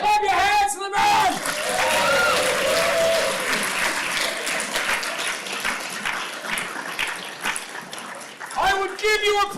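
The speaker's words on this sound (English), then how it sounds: "Clap your hands to the man!" Enthusiastic crowd applause at a live event, loud dense clapping sustained for several seconds with a few whoops, bracketed by a voice at the start and end.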